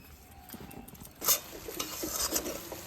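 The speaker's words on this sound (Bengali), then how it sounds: "কাজু কিশমিশটাকে এই সেমাইয়ের সঙ্গে ভালোভাবে মিশিয়ে নিচ্ছি।" Sweet Eid-style jorda shemai, fried vermicelli with cashews and raisins, gets stirred through syrup in a pan with a utensil. It makes steady scraping and rustling over a soft sizzle, with a louder scrape near the middle.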